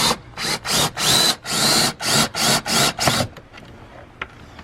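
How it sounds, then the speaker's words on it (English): A power drill drives screws through support brackets into a wooden window frame inside a Sprinter van conversion, heard as about eight loud, rhythmic whirring bursts, followed by quieter scattered clicks and taps. "screwing in the support brackets"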